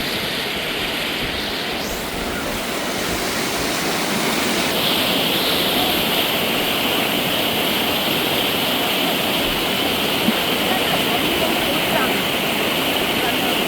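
Floodwater rushes through shops swamped after Cyclone Ditwah in the Vanni region, a steady, loud broadband roar of flowing water that continues unbroken throughout.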